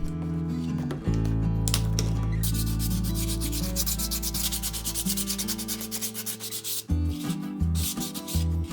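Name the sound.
sanding wooden eggs with curved sanders from ice cream carton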